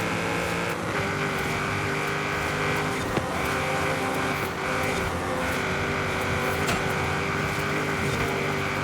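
A Vauxhall Monaro races in the video game Forza Horizon 5, its engine droning steadily at high revs for several seconds, loud and continuous with no speech.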